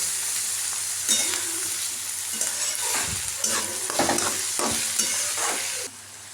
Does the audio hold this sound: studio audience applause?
no